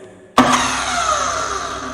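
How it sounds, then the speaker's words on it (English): A high-speed cutting power tool's engine kicks in abruptly and runs loud and steady, a constant bright whine that holds without any talk over it. "And let's hear the sound of his engine."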